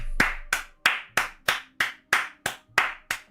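A person claps by hand ten times in a slow, even rhythm, about three claps per second. Each clap is sharp and close, with a short fading tail, and there is nothing else in the background.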